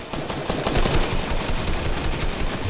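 Rapid assault rifle fire in the Fortnite video game, a dense, loud, continuous burst of shots running for a few seconds with no talk over it.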